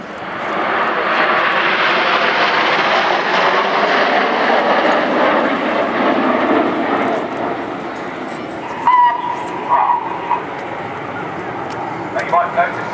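Red Arrows BAE Hawk jets roar loudly overhead in a steady, sustained jet wash while performing a three-quarter barrel roll at the 2010 Farnborough Airshow, with brief radio chatter cutting in near the end.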